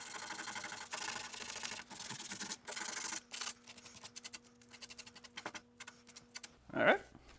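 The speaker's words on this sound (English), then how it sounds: "I'm just going to kind of sand down any kind of rough edge on here. And this is 120 grit" 120 grit sandpaper rubs the rough edge of a wall patch in quick back-and-forth strokes, close and gritty. The strokes break into shorter bursts toward the end, and a brief bump closes the clip.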